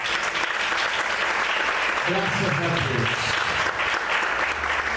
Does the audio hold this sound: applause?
yes